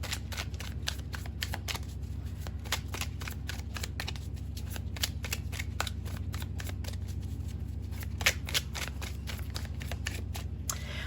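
Tarot cards being shuffled by hand, a close series of crisp riffling and flicking bursts repeating irregularly over a quiet background, no speech.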